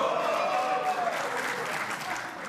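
A conference audience at an awards ceremony applauds and cheers for a man, a steady, even wash of clapping heard from within the hall, moderately loud and holding through to the end.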